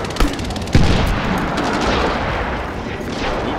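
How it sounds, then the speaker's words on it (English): Mortar fire and explosions in the combat video game Medal of Honor: Warfighter, a sharp blast followed by a heavier boom and sustained rumbling battle noise with scattered distant gunfire. "we're throwing mortars on the objective right now"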